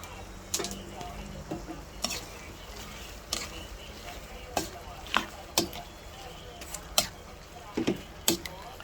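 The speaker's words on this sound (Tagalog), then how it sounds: "Ilagay na rin natin ating vegetables." Vegetables are tossed and stirred in a pan while stir-frying pancit, with a soft low sizzle and repeated sharp clacks of a utensil scraping and striking the pan, spaced a second or so apart.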